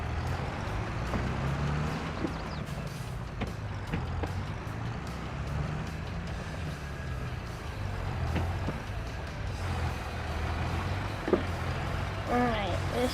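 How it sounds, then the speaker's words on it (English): An old tractor engine in the Farming Simulator 22 video game keeps up a steady, low rumbling drone for the whole stretch, with a voice talking over it. "So this is our new tractor,"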